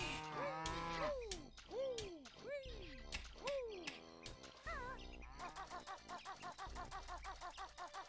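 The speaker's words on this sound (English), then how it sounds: "What is mooing," Repeated video-game cow moos from Banjo-Kazooie, several drawn-out calls one after another, loud and close, over a steady background hum with music-like tones later.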